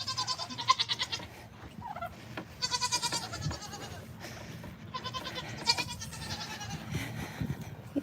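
Young goat bucklings bleat repeatedly outdoors on a farm, several wavering cries in quick succession at moderate distance, with turkeys and other farm sounds faintly in the background.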